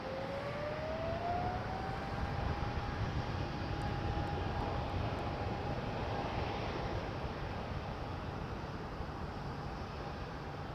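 A Polish airliner on the runway at Toronto Pearson Airport gives a steady, distant jet-engine roar with a rising whine that climbs and then holds, with no talk over it.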